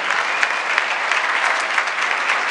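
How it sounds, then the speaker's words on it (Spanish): An audience applauds songwriter Carlos Noguera, a dense, steady wash of many hands clapping at once, loud and continuous throughout. "Quiero un aplauso para Carlos Noguera, el autor de esta canción."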